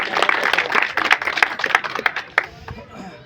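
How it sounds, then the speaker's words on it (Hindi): Applause from a rally crowd welcoming a district party official in Chakwali village, Rampur Maniharan: dense, steady clapping close by that thins toward the end, with a voice speaking over it. "एक बार जोरदार तालियों से स्वागत"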